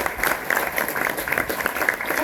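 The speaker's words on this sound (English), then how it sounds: "let's stand and give you a round of applause" A room of people at a college award ceremony applauds the nominators, producing dense, steady clapping that holds at full strength throughout.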